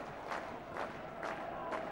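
A football crowd at a Bristol City v Preston North End match keeps up a slow handclap, faint and far off, with one soft collective clap about every half second over steady stadium murmur.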